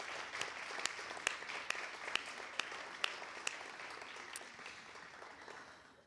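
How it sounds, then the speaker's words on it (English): Audience applause for participants at a university Three Minute Thesis competition: steady, moderately distant clapping from a crowd, with a few sharper individual claps standing out, slowly fading toward the end. "one last loud round of applause for all our participants today"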